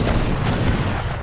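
Heavy cannons fire in a battle in the video game Age of Empires 3, making dense, loud booming artillery blasts that overlap continuously with crackling gunfire, and no speech is heard.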